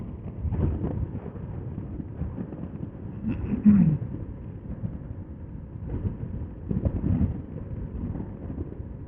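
Gusty wind buffeting a microphone in low, rumbling surges during a motorcycle ride on a Yamaha RZ250S, rising and falling throughout with a sharper blast near the middle.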